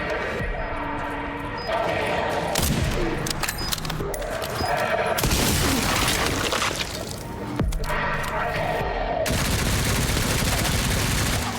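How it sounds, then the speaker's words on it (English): Gunfire in the video game Resident Evil Requiem, loud dense bursts and rattling shots packed into a constant blaring game mix with other effects. "This man was shooting me with a gun?"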